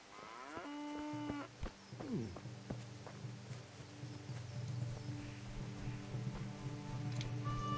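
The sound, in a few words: cows mooing in video game Kingdom Come: Deliverance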